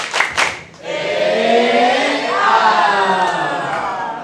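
A group of presenters joins in a spirited tepuk semangat clapping chant, with a few sharp claps up front followed by a sustained burst of voices shouting together, fairly close and loud.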